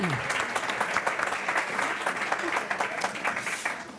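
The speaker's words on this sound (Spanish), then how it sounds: "Un fuerte aplauso para Josemi, por favor." Audience applause at a round-table session of an information systems auditing congress; a steady, dense burst of clapping from a seated crowd that carries evenly through the stretch, fairly loud and close.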